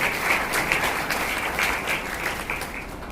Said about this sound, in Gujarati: બેન માટે આપણે જોરદાર તાળીથી અમને અભિનંદન આપીએ